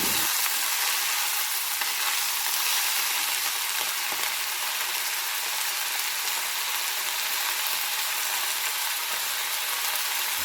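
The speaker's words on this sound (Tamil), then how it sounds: "லைட்டாக சுருங்குற அளவுக்கு வந்து ஃப்ரை பண்ணி விட்டால் போதும்" Mint leaves fry in a pan with a steady, dense sizzle and crackle, close and continuous for the whole stretch with no talking.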